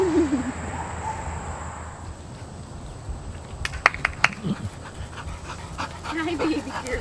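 A dog pants and tugs during play at an animal shelter adoption event, with steady breathy panting, a few sharp clicks and rattles midway, and people talking nearby throughout.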